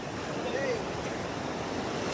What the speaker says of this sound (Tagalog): Grabe, napakalakas ng agos.